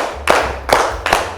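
A classroom group claps together in an ice-breaking clap game, three sharp unified claps spaced about evenly, loud and close, with no talking.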